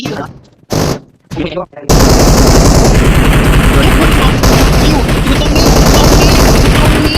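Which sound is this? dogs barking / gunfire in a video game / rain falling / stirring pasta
gunfire in a video game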